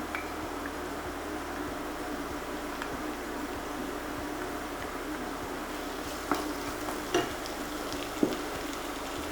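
Ginger garlic paste frying with golden brown onions in a pan, a soft steady sizzle with a few faint clinks of stirring near the end.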